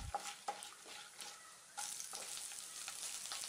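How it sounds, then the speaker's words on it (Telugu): Urad dal frying and being stirred in a pan for mango pulihora, a steady close sizzle with scraping stirs and small clinks, growing louder and denser partway through. "ఇప్పుడు సాయి మినపప్పును కూడా వేసుకుని వేపుకోవాలి."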